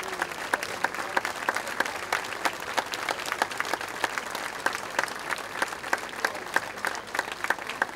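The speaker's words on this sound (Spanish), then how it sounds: "Ese aplauso para Gabriel." An audience at a solo singers' showcase applauds a child soloist. The clapping is soft and slightly distant, a steady patter of individual claps over quiet room tone, with no speech.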